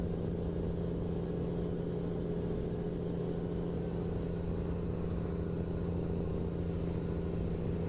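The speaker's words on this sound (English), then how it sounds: "I have no idea what turbo is on this truck, but it does sound good." Turbocharged classic truck engine in American Truck Simulator, a customised 2007-style rig cruising at about 87 mph, giving a steady, loud low rumble and drone with a faint high turbo whine running throughout.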